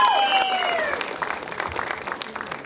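An audience at a Kannada film title launch gives loud applause to welcome a music director, a dense burst of clapping that slowly fades, with a brief tonal sound at the start.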